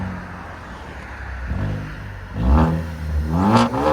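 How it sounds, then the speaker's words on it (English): A straight-piped Ford Fusion with a 2.0L turbo engine revs hard nearby, in loud rising surges with a whooshing blow-off valve release between pulls, and no talking. "You guys can hear the blow-off valve too."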